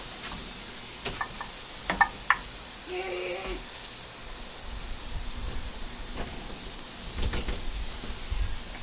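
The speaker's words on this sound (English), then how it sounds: "Look at that sizzle, sizzle." Seasoned food frying on a hot surface gives a soft, steady sizzle at low volume, broken by a few light clicks and knocks of cookware.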